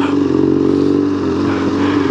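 Yamaha Tenere 700 or BMW GS 1250 adventure motorcycle riding through sand near Mapanuepe Lake, a steady loud engine drone with rising and falling throttle, close and continuous throughout.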